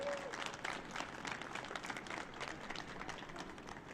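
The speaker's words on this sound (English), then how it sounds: "let's give a round of applause to all the parents who made the trip" A round of applause from the crowd at an MLS NEXT Cup U17 soccer awards ceremony honors the players' parents, steady dense clapping held at an even level throughout.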